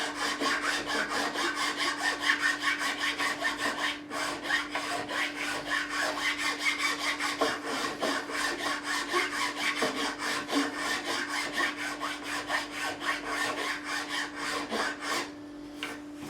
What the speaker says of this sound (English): Come across with a fine file.